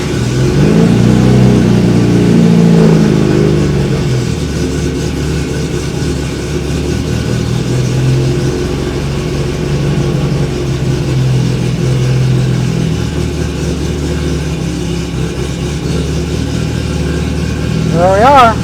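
An MGB sports car engine starts and settles into a steady, loud idle. The running stays constant and close through the whole stretch, with a short rise near the end.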